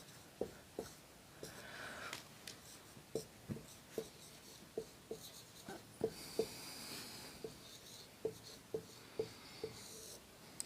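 Chalk or marker tapping and scraping on a classroom board during a Hindi polity lecture, a run of short sharp taps at an irregular pace over a low room hum, close and fairly faint.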